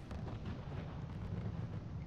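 Assault guns fire during a battle in a strategy video game, a dense, continuous rumble of deep booming shots and blasts with no clear gaps, loud and steady throughout.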